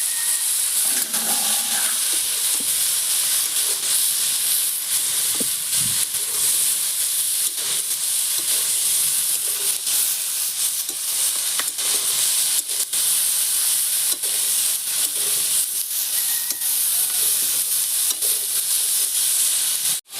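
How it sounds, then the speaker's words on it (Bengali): Onion stalks, eggplant, tomato and potato fry together in a pan, a steady loud sizzle and hiss of oil running without pause, with faint scraping from stirring now and then. "দিয়ে দিচ্ছি পেঁয়াজ কলি বেগুন টমাটো আর আলু সব একসাথে দিয়ে দিচ্ছি"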